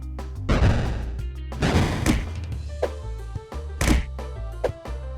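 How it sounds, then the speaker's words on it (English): In the video game Peglin, a cartoon bomb explodes amid a run of heavy thunks and crashes, several loud percussive hits spaced over a few seconds with no talking. "Or I could blow up one bomb."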